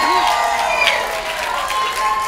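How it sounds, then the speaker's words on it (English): Audience applause and cheering at a half-hour stand-up comedy special, a dense, continuous wash of clapping and crowd noise with scattered shouts and whoops over it, steady in loudness throughout. "Round of applause."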